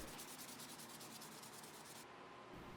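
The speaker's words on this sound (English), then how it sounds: "After that, I'll sand off the raised grain and work up to about 400 grit." Oiled wooden knife handle being sanded to take off raised grain, a continuous close rasping rub that changes texture near the end, with no voices.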